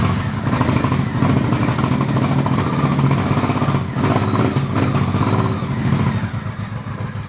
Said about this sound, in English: But the bike starts. It starts and runs.